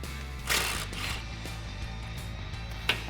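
A ratchet with a 10mm socket loosens a bolt on a brake line bracket under a 2004-2014 Ford F150 during a leveling kit install, faint clicking ratchet strokes over a background hum, with a couple of louder clicks.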